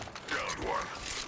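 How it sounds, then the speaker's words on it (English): Weapon reload in Apex Legends: a brief mechanical clicking and ratcheting of metal parts, close and moderately loud, with a faint voice underneath. "Reloading."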